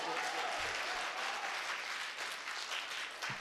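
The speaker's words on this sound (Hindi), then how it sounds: "एक बार जोरदार तालियों से हमको" Loud, sustained applause fills a mushaira audience hall for a poetry reading, a dense continuous wash of clapping from a large crowd throughout.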